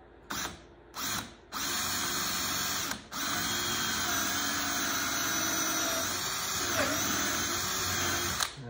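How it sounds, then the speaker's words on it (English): Power drill driving into wood while building a pirate chest toy box, with two short bursts, then a long sustained whir, a brief pause and another long run, loud and close. "See if we can get that drilled or screwed in there"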